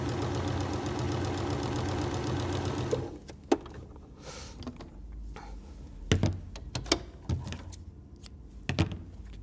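A sewing machine straight-stitches a fabric seam on a patchwork quilt flower block, giving a close, rapid, even mechanical chatter for about three seconds before it stops, followed by scattered clicks and handling knocks.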